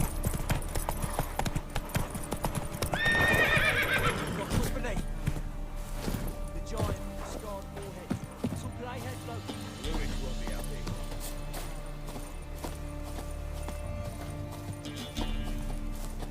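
Horse galloping in The Witcher video game, rapid rhythmic clip-clop hoofbeats throughout with a brief whinny near the start, under game music and ambience.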